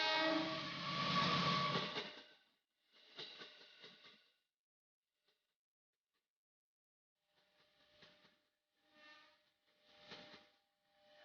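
A train passes railway level crossing JPL 81, a long broadband rumble loud at the start then fading, with a shorter burst and a few distant intermittent rattles and clanks after a quiet gap.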